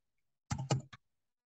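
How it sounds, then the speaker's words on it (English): Mouse clicks while editing in Clipchamp: a quick burst of three close, crisp clicks in under half a second, surrounded by silence. "Double click, single click again"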